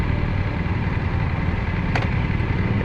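A BMW R1250RT motorcycle engine hums and rumbles steadily under wind noise while riding, at a moderate level, with one short bright tick midway and no talking.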